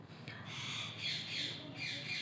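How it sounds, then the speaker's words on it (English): A pet parrot squawks and yells in a harsh, sustained burst lasting a couple of seconds, close and fairly loud, with no talking. "My parrot is yelling."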